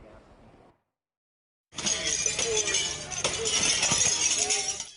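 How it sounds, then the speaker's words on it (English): Windows being smashed by a group during a street demonstration in Portland, with clinks and shattering glass over loud, busy crowd noise after a brief quiet stretch. "The sound of breaking glass could be heard at Northeast 9th and Everett, where a group dressed in black busted out windows"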